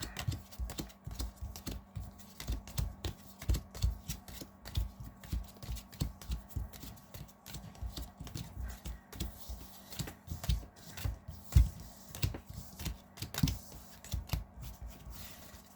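Magic: The Gathering land cards are shuffled by hand, giving a rapid run of close, crisp riffling and tapping clicks that go on unevenly for several seconds without speech.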